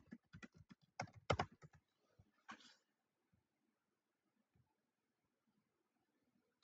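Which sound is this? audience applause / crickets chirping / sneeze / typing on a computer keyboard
typing on a computer keyboard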